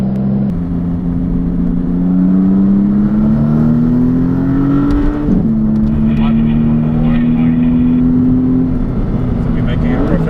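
A Maserati MC20 pulls away in first gear down a race circuit pit lane, its engine drone steady and close, rising slightly in pitch over about ten seconds with a brief dip midway as people talk over it.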